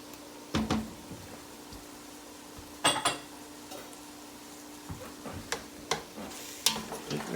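Spoon strokes scrape and clatter through a chestnut dressing with chopped thyme, sage, parsley and sausage in a frying pan, a handful of distinct stirs at uneven intervals over a faint sizzle, with no talking.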